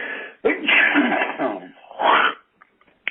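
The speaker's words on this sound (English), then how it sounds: "get done with this coughing and sneezing" A loud, close sneeze bursts out, followed by a second sharp sneeze, then quiet with a faint click at the end.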